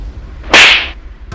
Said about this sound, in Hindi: मार इसके मुंह पे थप्पड़